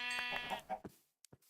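Minecraft sheep bleat in quick succession, several short wavering baas close together and then fading out, followed by a couple of faint clicks in near silence.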